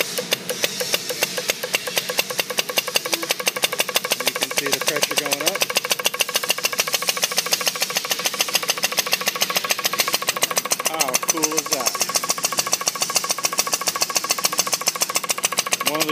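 A small pneumatic hit-and-miss motor running steadily on compressed air with a rapid, even chugging beat and airy hiss, close by, continuing without pause.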